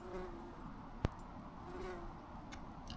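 A bumblebee buzzing around outdoors in Alaska, a faint, distant hum carrying under quiet background noise, with one sharp brief click near the start.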